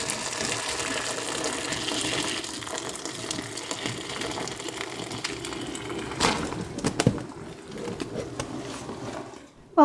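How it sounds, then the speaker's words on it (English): Boiled medlar fruit and liquid pouring into a bowl, a steady wet gushing and splashing that runs for several seconds, with a few louder clatters near the end. "when you're pouring a whole bunch of fruit into a bowl"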